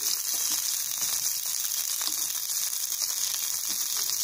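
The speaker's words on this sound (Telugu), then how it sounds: "చూసారా, పచ్చిమిర్చి మనకు వేగుతున్నాయి కదా" Green chillies frying in a pan for coconut chutney give off a steady, close, continuous sizzle with no talking.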